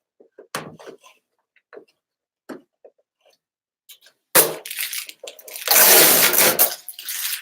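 Plastic storage drawer of a Silhouette Cameo 4 Plus 15-inch vinyl cutter sliding out, preceded by light taps and clicks, then a sustained loud scraping slide near the microphone.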